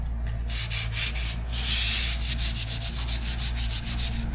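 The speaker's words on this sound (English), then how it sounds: "Now we're just going to sand everything carefully." Hand sanding over a drywall repair, a steady rhythmic rasp of repeated back-and-forth strokes, close and continuous under a constant low background hum.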